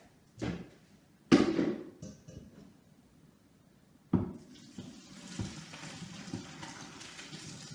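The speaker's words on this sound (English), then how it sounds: "Drain the pasta." Cooked pasta drained into a colander in a kitchen sink: a couple of knocks and clatters of the pot, then a heavy rush of hot water pouring out that settles into a steady splashing hiss.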